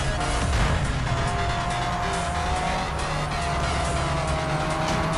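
A race car engine in the Real Racing 3 video game roars steadily under acceleration, holding a dense, continuous note with a rising whine and faint tire noise throughout.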